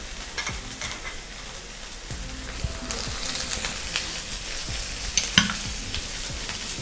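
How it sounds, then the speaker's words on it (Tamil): Capsicum is stir-fried in a pan for quinoa tofu tacos, with a soft continuous sizzle under repeated scraping strokes of a spatula, heard close and moderately quiet. "இது குடமிளகா ஆட் பண்ண போகிறேன்."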